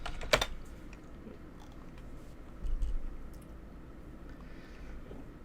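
Quick tapping on a computer keyboard as an npm install command is entered, with soft clustered keystrokes close by and no one talking.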